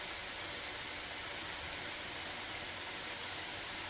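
Raw, not pre-cooked potato fries deep frying in hot oil for fish and chips, giving a dense, steady sizzling hiss that holds unchanged throughout.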